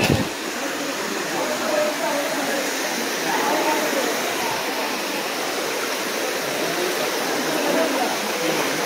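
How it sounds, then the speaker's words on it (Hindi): A mountain waterfall in Kashmir roars with a steady, loud, close rush of falling water that holds without pause for the whole stretch. "तो फाइनली गाइस ये आबशार है, ऊपर से पानी आता है भाई"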